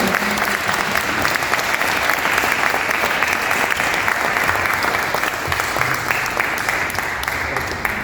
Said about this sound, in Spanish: creo que merecen un aplauso, ¿no?